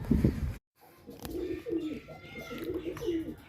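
Several pigeons of a famous Bijnor breed coo in a rolling, repeated pattern, moderately close, with soft background rustle and a brief silent gap early on.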